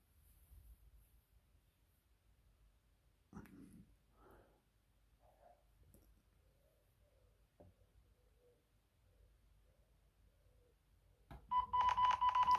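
Electronic beeping blares loudly from a speaker near the end during a test of ghost-hunting gear such as a K2 meter, after long near-silence broken by a few faint knocks and breaths.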